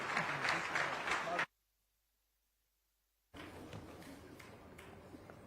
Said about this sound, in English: I would like all of us to give him a big applause